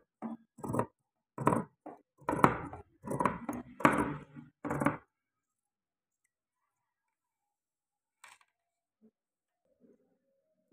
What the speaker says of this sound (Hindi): कपड़े को फोल्ड करेंगे, उसके बाद ये कटिंग होगी